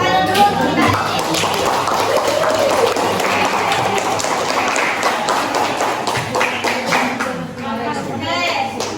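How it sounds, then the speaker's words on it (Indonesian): Children in a classroom clap together at the end of a practice teaching lesson, a steady patter of hands mixed with chatter and young voices throughout. "Tepuk tangan dulu untuk kita"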